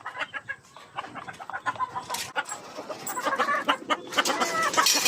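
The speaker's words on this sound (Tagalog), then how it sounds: "Ito yung mga manok naming bagoong." Several chickens clucking nearby in irregular bursts, growing busier toward the end, with faint farmyard background.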